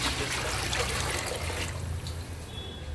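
About two and a half cups of water pour into a pot of rice with a steady, close splashing trickle lasting a few seconds.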